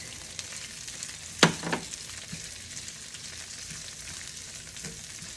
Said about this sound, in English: now I can just add it into my sauce here